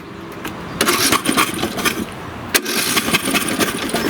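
A small engine with its spark plug pulled and a rag stuffed over the plug hole, being cranked over: a rough, uneven churning with scattered clanks and bursts, fairly loud and continuous without talk.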